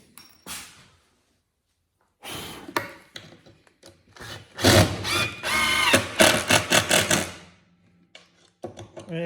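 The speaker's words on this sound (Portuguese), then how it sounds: "agora é só colocar os parafusos" An electric screwdriver drives screws into a table saw cutting guide with several short whirring bursts, then a longer pulsing run, separated by silent pauses and handling knocks.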